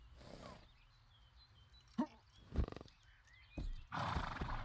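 A horse in a medieval video game gives a couple of short snorts and neighs, a faint whinny at the start and louder bursts with hoof thuds toward the end, over quiet ambience.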